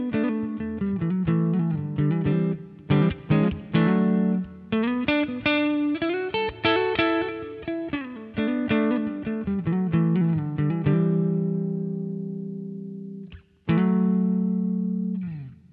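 An electric guitar plays a clean tone through a Sansamp pedal on its clean setting with built-in reverb: a close, bright run of picked notes and chords, then a held chord ringing out and decaying, followed by one more strum.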